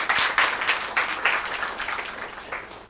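Scattered hand clapping from an audience of students in a Satna academy classroom, several bursts of claps in an uneven rhythm that taper off toward the end, moderately loud and close.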